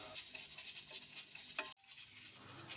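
Coconut burfi mixture of grated coconut cooking in a pan while being stirred, with a soft, faint sizzle and scraping that cuts out abruptly partway, then resumes more quietly.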